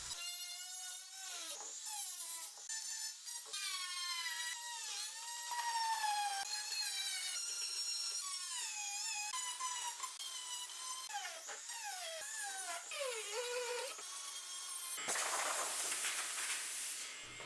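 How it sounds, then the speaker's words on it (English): A high-pitched rotary tool whines continuously, its pitch rising and dipping as it grinds the inner edges of a carbon fiber overlay on a Mustang center console, ending in a hissy, rougher burst. "So let's take our rotary tool and start working on these inner edges."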